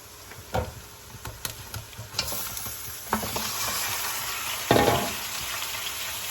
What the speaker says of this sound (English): Okay, time to add the meat in this mixture.